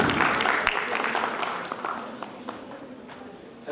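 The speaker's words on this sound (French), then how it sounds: "On applaudit fort." An audience applauds after a talk at a quality conference, clapping loudest at first and then gradually fading.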